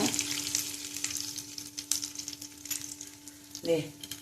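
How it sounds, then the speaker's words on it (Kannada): Cumin, mustard seeds, tamarind and turmeric fry together in a pan in a Tulu home kitchen, giving a steady close crackle and sizzle with a brief louder stir or scrape near the end. "ಪೂರ ಸಾಮಾನು ಪಾಟಿಗೆ ಒಟ್ಟು ಫ್ರೈ ಮಾಡ್ತದ ಜೀರಿಗೆ ಸಾಸ್ಮೆ ಪುಳಿ ಕಡಿನಾಗ ಮಂಜಲ್ ಕಡಿನಾಗ"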